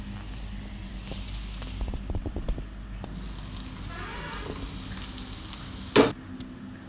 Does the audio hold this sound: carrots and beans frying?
yes